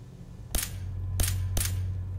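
A grenade going off in a modded video game: three sharp, short bursts spaced about half a second apart, loud and close over a low steady hum.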